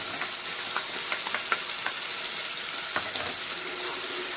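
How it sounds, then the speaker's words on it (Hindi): A green paste of ground coriander, ginger, garlic and green chili fries in a hot pan with a steady, dense sizzle, and light clicks of stirring recur throughout. "इसको अच्छे से भूनना है कि अदरक लहसुन का जो भी कच्चापन है वो खत्म हो जाए"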